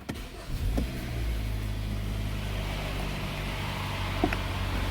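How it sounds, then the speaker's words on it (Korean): Hyundai Grandeur IG 2.4, a 2017 sedan, starting its engine with a brief crank and then settling into a low, steady idle heard close and fairly quiet. "시동 한번 걸어보겠습니다."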